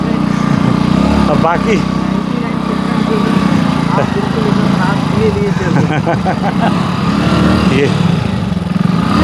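A motorcycle engine running steadily and loudly while riding, a constant close rumble throughout, with a brief voice speaking over it.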